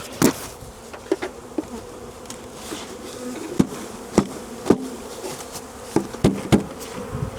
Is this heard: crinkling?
no